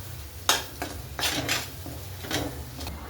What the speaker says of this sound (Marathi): आपण याच्यामध्ये सुके मसाले घालून घेऊ आणि मस्त तेल सुकेपर्यंत फ्राय करून घेऊ मसाला